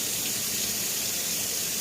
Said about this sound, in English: Now just hit it with the cold water